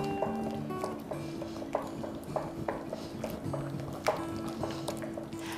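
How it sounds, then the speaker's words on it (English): Double cream is stirred into a baked cheesecake mixture in a bowl, giving soft wet squelches and gentle knocks of the spoon in an uneven rhythm, close and steady against a faint tonal background. "I'm going to add a 150 to 170 ml carton of double cream. Start stirring that in."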